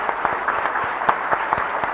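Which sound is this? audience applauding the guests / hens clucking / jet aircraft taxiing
audience applauding the guests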